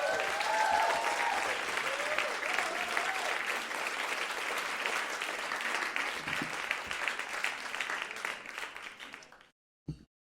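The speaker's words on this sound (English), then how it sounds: "Please, a round of applause for Has Agili." A crowd claps for a speaker at an evening event, the applause full and steady with some voices early on, then thinning before stopping abruptly near the end.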